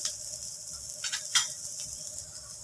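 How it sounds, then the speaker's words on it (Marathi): Onion frying in a little oil in a home kitchen pan, a steady soft sizzle with a few brief louder crackles and stirring scrapes near the middle, no voices. "तेल थोडस टाकणार आहे छान आपल्याला कांदा व्यवस्थित भाजून घ्यायचा आहे"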